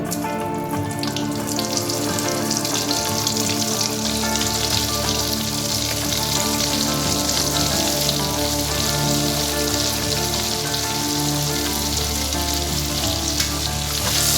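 Butter sizzles and fries loudly and steadily in a pan right after paneer has been fried in it, a dense, continuous crackle close up with no talking.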